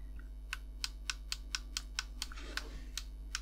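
Quiet, evenly spaced small plastic clicks from pedal switches on a 1967 Shelby Mustang Super Snake scale model, about a dozen in a steady rhythm over a low constant hum.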